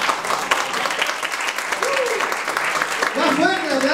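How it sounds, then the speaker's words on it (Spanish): Sustained applause from a concert audience at an album launch in Sala SCD Bellavista fills the whole stretch, with a voice calling out over the clapping near the end. "Ella es Victoria Cordero, un aplauso para ella."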